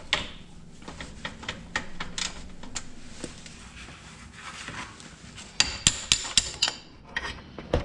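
A hammer strikes metal parts on a 2004 Ford Escape 3.0 engine during head gasket and timing cover work, scattered sharp clanks that cluster into a louder burst of rapid blows near the end.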